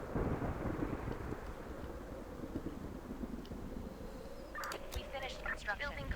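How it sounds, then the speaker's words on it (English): Thunderstorm in the video game Infection: a steady wash of rain with low rumbling thunder throughout, plus brief higher game effects near the end. "It is a stormy day."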